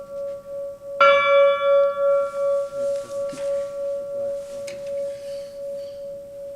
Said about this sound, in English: I'd like to ring a bell in their honor.